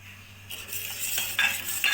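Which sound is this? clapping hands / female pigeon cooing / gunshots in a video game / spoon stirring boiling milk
spoon stirring boiling milk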